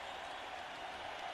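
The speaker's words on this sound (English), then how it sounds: "They have been standing and applauding the Celtics since the timeout began" Arena crowd of nearly fifteen thousand on its feet applauding the Celtics during a timeout in a 1995 playoff game against the Magic, a dense, sustained wash of clapping and cheering heard at a distance.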